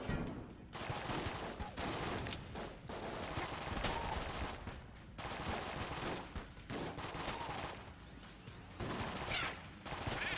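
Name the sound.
gunfire from a gun in the video game Enter the Gungeon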